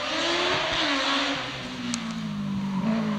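A go-kart with a Hayabusa motorcycle engine drones steadily and loudly close by on a kart track, its high-revving pitch sliding down and then climbing again as it races, with no voices.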